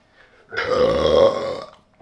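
A loud, drawn-out burp of about a second rises close to the microphone after a swig of Coopers Session Ale, then fades to quiet.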